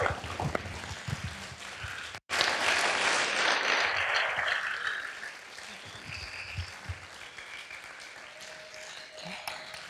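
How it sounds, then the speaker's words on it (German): A café audience applauds the winner of a climate poetry slam on the energy transition at Café Zentral, sustained loud clapping after a brief gap, thinning gradually toward the end. "Dein Applaus"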